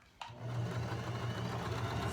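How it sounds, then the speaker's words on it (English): A sewing machine stitching the side seams of a pink slip starts after a brief click and runs steadily with a close, even mechanical hum and needle rattle, no voices. "So I've started sewing the side seams now from the wrong side"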